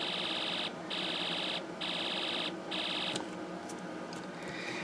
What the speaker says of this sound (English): it should be quiet enough in here, I think, to be able to hear that laser gun sound effect